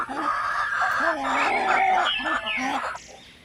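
Native black chickens cluck in short, repeated bursts close by, with some background noise and faint voices mixed in.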